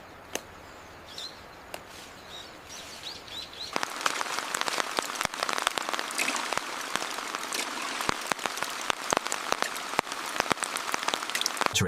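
Spring rain falls on tea plants in a Japanese matcha-growing region, a steady patter of many close drops that starts softly and becomes denser and louder partway through, with faint birdsong early on.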